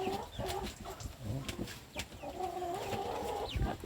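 Grown chicks, now sizable poultry on a rural backyard farm, cluck and chirp continuously at close range, with overlapping calls and occasional louder squawks.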